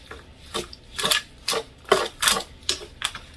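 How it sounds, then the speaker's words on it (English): Wet, sticky clatter of a spoon stirring cheese sauce into macaroni noodles in a pot, heard as about eight close scraping strokes in a steady rhythm, with no talking. "you're just going to stir that into your noodles"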